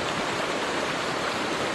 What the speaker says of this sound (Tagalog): At ito yung ilog.